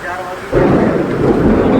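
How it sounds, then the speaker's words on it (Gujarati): A loud, deep rumble of thunder breaks in and rolls on over a steady roar of heavy rain, with a voice briefly audible beforehand. "વીજળીના કડાકાન ભડાકાન એ જોવો તમે કેવો ધોધમાર વરસાદ ચાલુ થઈ ગયો છે"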